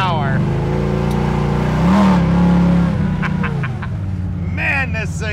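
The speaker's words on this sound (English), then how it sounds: "listen to that exhaust. Man, does she sound tough. That 502 is making a ton of power." A 1968 Chevrolet Chevelle with a 502 engine rumbles through its exhaust, swelling in a deep rev before settling back to a throaty idle, with someone talking over it.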